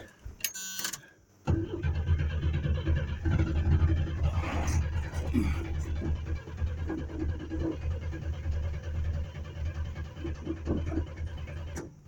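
A 1976 Chevy Camaro engine cranks briefly, then catches and runs with a steady low rumble before sputtering out as it runs out of gas, close by with no talking.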